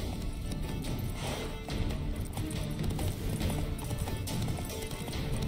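Horse hooves gallop in The Witcher 3, a steady clip-clop rhythm running loud and continuous over dense game ambience, with a neigh or whinny breaking through.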